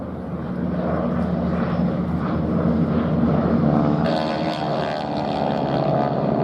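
Propeller drone of a T-6 Harvard radial-engine trainer in polished silver with a red nose at the Duxford air festival, a steady loud roar that holds constant and brightens slightly partway through, with no talk.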